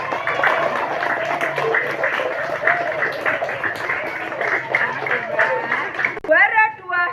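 A school hall crowd applauds a competition prize winner with steady, dense clapping that runs nearly the whole time, loud and close, with a voice chiming in briefly near the end.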